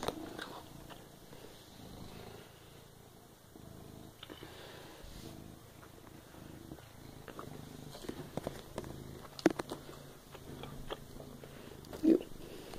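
A cat purrs close up with soft rumbling and occasional chewing-like clicks, fairly quiet throughout.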